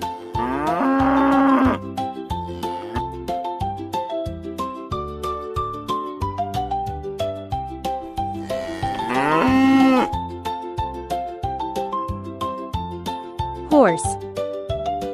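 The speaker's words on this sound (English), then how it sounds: "Cow." A cow gives two long, loud moos, one at the start and another later, over light, bouncy background music.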